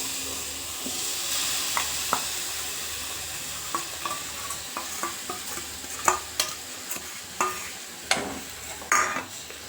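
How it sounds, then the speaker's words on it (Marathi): Jaggery melting with a little ghee in a hot wok sizzles softly, while a spoon scrapes and stirs in a series of sharp clinks and scrapes that grow more frequent toward the end. "त्याच्यामध्ये थोडंसं किंचित तूप टाकून घेतलंय मी, आणि त्याच्यामध्ये मी गूळ गरम करायला सुद्धा"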